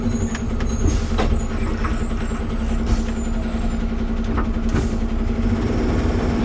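A lorry with a burst tyre tube, travelling past the Assam border, rumbles loudly at close range while its air brakes release several sharp hissing bursts over the steady engine drone.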